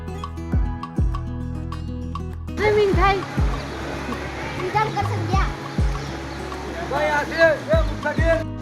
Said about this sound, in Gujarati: અમે ફરીથી પાણીમાં નાહવા માટે ગયા